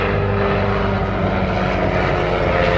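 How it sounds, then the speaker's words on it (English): A de Havilland Mosquito with twin Rolls-Royce Merlin engines roars past at an air show, its propellers and engines producing a loud, continuous, throbbing drone that holds steady throughout. "A couple of big Merlin engines powering the Mosquito,"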